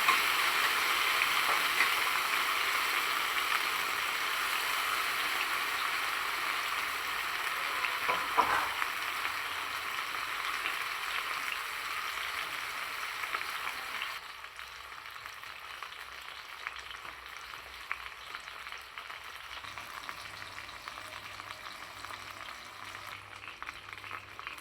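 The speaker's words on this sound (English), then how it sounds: "I'll be adding the pieces of chicken that I'll be frying until they're golden brown on each side." Pieces of jerk chicken sizzle and crackle in hot oil, a steady close frying hiss that quiets somewhat partway through.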